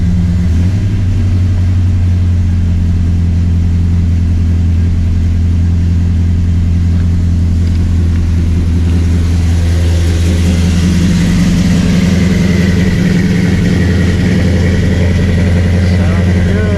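A freshly built blueprint engine runs steadily after break-in, a loud, even idle with a strong low hum, rising slightly in the later seconds as the revs lift.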